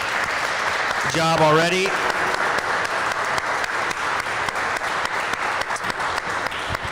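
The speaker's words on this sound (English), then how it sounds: "can we just give a big round of applause to the San Antonio Startup Week team?" Applause from the audience at San Antonio Startup Week fills the room for the team, a steady dense clatter throughout, with someone speaking briefly over it near the start.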